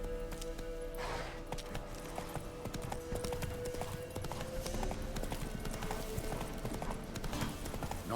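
Horse hooves clip-clopping at a steady galloping rhythm in The Witcher 3, close and continuous over game ambience, with a faint whinny.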